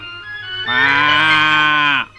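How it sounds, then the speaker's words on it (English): A cow gives one long, loud, drawn-out moo, close by and steady from start to finish, with no voices around it. "Just then they heard a cow mooing."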